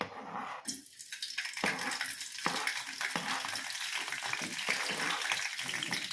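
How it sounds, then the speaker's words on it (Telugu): Green chillies added to hot oil for a methi tomato curry, giving a steady crackling sizzle with sharp pops and a few stirring clatters, close and continuous. "తగినంత ఆయిల్ వేసుకొని తర్వాత పచ్చిమిర్చి వేసుకోవాలి"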